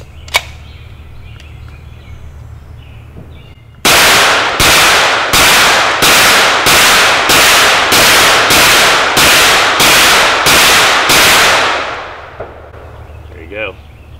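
A 10mm Hi Point carbine fed from a 20-round .45 ACP magazine fires about thirteen sharp, very loud shots in quick, even succession outdoors, each cracking report ringing out. Quiet ambience comes before and after the string.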